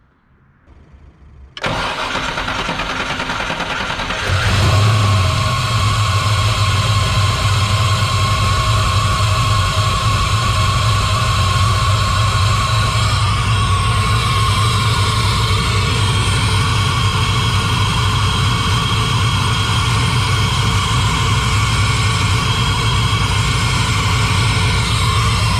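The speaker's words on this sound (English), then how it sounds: "put the alternator back on and then we can start it up" The repaired engine of a Chevrolet S10 muscle truck cranks and fires up at close range, then settles into a steady, loud idle with a constant low rumble that runs to the end without any talk.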